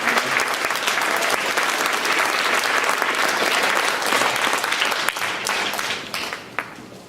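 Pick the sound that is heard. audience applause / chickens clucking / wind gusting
audience applause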